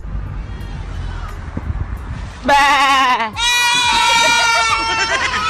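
A man sitting in a car imitates a goat, letting out two loud, wavering bleats one after the other after a stretch of quieter background noise.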